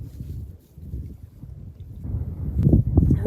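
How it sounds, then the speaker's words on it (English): Strong wind gusting around a canoe on open water before a snowstorm, a steady rumbling buffet on the microphone that swells louder toward the end. "This wind is really picking up."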